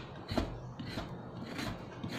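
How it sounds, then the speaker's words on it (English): A vegetable peeler scrapes carrots in downward strokes, several soft, short rasping swipes at an irregular rhythm, quiet and close with no talking. "you are peeling off the carrots in a downward position"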